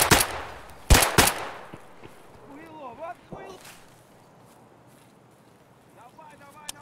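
In the video game Escape from Tarkov, three loud, sharp gunshots ring out in quick succession near the start, followed by quieter footsteps and movement while someone talks.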